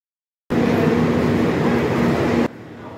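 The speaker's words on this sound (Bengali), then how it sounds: "এটা হলো আমাদের ট্রেনটা।" The Poorva Express at Tundla Junction, a steady rumbling rush of the train passing close by that starts abruptly and holds evenly for about two seconds before cutting off.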